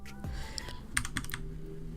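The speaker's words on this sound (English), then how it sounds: "use your arrow keys and move the text up" Arrow keys on a computer keyboard are tapped several times in quick, uneven succession, producing soft, close plastic clicks with no talking.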